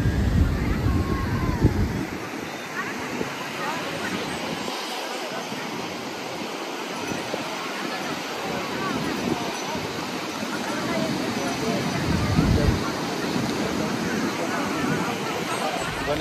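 Sea waves on the beach at Puri roll in as a broad continuous roar of surf mixed with gusty wind buffeting the microphone, loud and steady with occasional swells.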